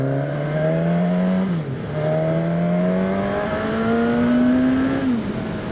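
Suzuki Katana motorcycle with a GSX-S 1000 engine revving under way, its pitch climbing through the gears with two brief drops at shifts before rising again, loud and close with steady wind noise.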